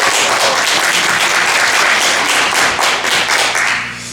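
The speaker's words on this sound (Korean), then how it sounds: "큰 박수 부탁드립니다." Audience applause at the opening ceremony of a literary arts festival in Korea, greeting an arriving guest speaker; dense, loud clapping from a full room, continuous throughout and tapering slightly at the end.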